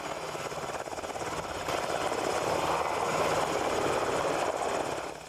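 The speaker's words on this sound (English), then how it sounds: "2 Black Hawk helicopters were flown in from Madison to do the job this morning" Two Wisconsin National Guard Black Hawk helicopters fly in, a steady loud rotor and engine roar that swells slightly and holds broad and continuous throughout.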